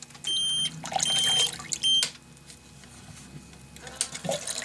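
A Tera Pump TRHA03 battery transfer pump dipped into water gives off repeated high electronic beeps in short bursts, with splashing and liquid noise around them and a quieter watery tail.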